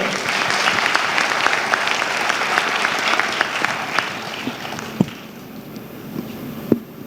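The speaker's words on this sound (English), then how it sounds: "Give a round of applause to her." A crowd at an entrepreneurship event applauds an audience member, with dense, loud clapping that holds steady and then tapers into a few isolated claps and thumps near the end.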